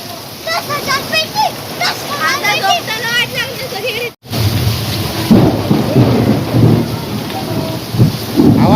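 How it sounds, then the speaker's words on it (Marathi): People talk excitedly over the season's first heavy rain in Konkan, then after a sudden break loud rumbling thunder from a nearby lightning strike and pouring rain fill the space, close and powerful. "खतरनाक वीज पडले वीज"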